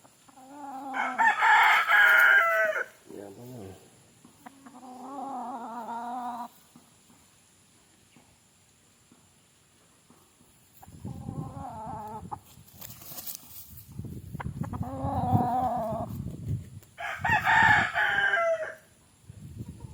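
Roundhead gamefowl roosters crowing on a farm, several loud, drawn-out cock-a-doodle-doos in separate bursts with quiet gaps between them, plus lower clucking and rustling from nearby fowl.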